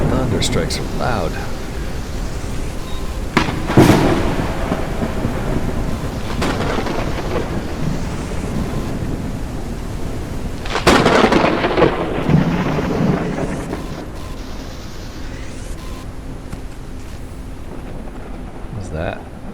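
Loud thunder strikes crash repeatedly in a stormy scene from the video game Forever Skies, with bursts of rumbling noise over a steady rain-like hiss and a few louder cracks near the middle.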